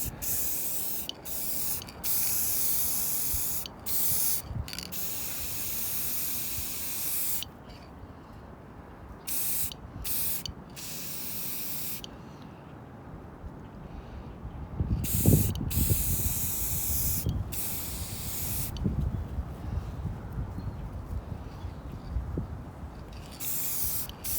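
Spray paint hisses in repeated bursts as another coat goes onto a garden dragon art piece outdoors, with short pauses between passes and some louder clatter and handling noise toward the end.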